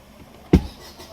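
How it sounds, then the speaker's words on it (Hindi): A Maruti Suzuki Swift diesel with an automatic clutch starts with one short, sharp burst of cranking and firing, loud and close, then settles into a quiet low murmur. "और अब करेंगे हम गाड़ी को स्टार्ट।"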